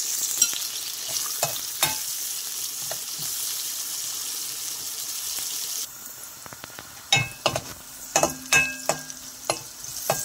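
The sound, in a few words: onion, garlic and green chillies frying in a pan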